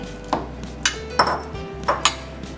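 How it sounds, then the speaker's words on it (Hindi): Several sharp clinks and knocks of a mixer grinder jar being handled, irregularly spaced, close by, over a faint background hum. "अब हम एक मिक्सर का जार लेंगे, इसमें हम एक कैरी डालेंगे"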